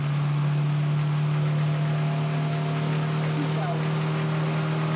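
Electric motor fitted to a converted chipper shredder, running at about 8.3 volts and 2000 RPM, gives a steady, even hum that stays loud and close throughout without changing pitch.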